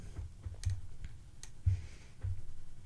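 A computer mouse clicks several times at an irregular pace, close and crisp, over a quiet room background with no voices.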